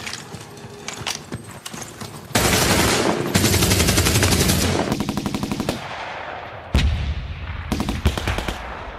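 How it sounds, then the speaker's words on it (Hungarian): Staged gunfire for a school play commemorating the 1956 Hungarian uprising: loud bursts of rapid machine-gun fire alternate with single shots and short pauses, close and harsh, with no talking. "A közeli utcákból hirtelen puskalövés hallatszott."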